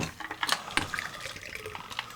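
A shot of Fernet Branca is poured, giving a brief, faint liquid trickle with small splashy bursts, close to the mic and alone without talk.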